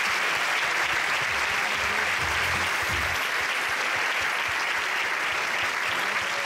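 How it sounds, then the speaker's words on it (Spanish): Loud, sustained audience applause for the dance couple Pura Pasión at a Latin awards gala, thick continuous clapping with a brief low voice murmuring underneath early on. "le pido un fuerte aplauso a Pura Pasión"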